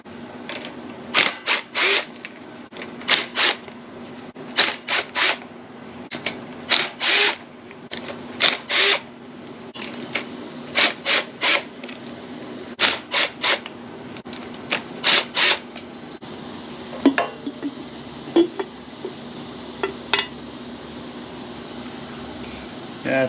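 A power tool spins out the bolts of a Fiat 124 rear axle cover in repeated short bursts, about a dozen loud whirring pulses separated by pauses, fading to scattered lighter clicks and handling noises toward the end.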